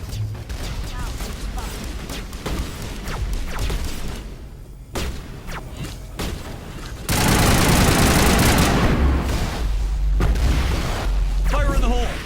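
Missile launch and gunfire in a Mass Effect Legendary Edition battle, dense rattling volleys and booms throughout, swelling into a loud sustained roar of fire and explosions in the second half, with voices speaking over the combat.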